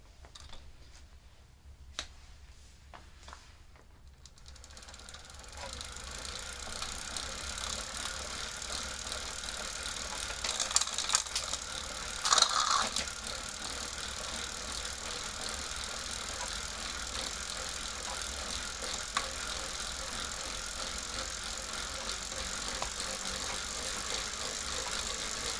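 A Wahoo Kickr Core bike trainer fitted with a Zwift Cog spins up after a quiet start, settling into a steady, fairly soft whir with a few light clicks and ticks along the way.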